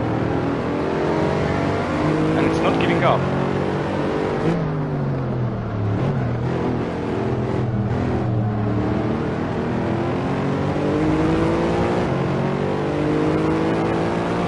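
A Lotus race car engine in Assetto Corsa revs continuously, its pitch climbing and dropping through gear changes. It is loud and close throughout, with a short spoken comment over it.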